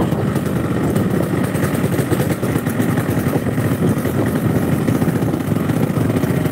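A Yamaha RX motorcycle engine runs roughly and steadily up close, a loud, coarse, continuous drone with no speech over it.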